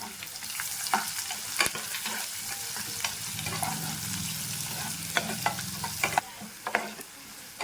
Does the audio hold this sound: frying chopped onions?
yes